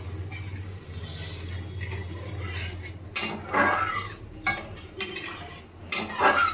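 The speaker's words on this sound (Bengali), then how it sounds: "এবার আমি মশলাটাকে ভালোভাবে নেড়ে নেব।" A spice paste masala with water just added, stirred in a pan for an omelette curry; a steady low simmer, then several distinct scraping stir strokes of a spoon against the pan, close and without talk.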